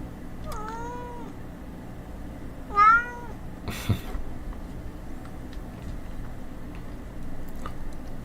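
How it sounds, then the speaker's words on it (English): A pet cat named Mango gives two clear, drawn-out meows early on, close and fairly loud over a quiet room hum. A short clatter follows, then faint background ticking. "Yes, Mango is my cat."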